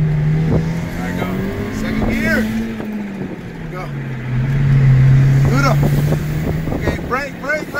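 A manual-transmission VW GTI engine revs and pulls hard in second gear, a loud rising and falling drone close inside the car, with people talking and laughing over it.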